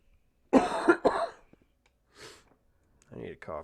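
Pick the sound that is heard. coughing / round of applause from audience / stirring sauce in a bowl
coughing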